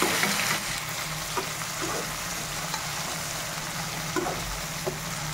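Onions and tomatoes fry in a pan for tomato rice with a constant, even sizzle and a few light clinks, heard close and without speech.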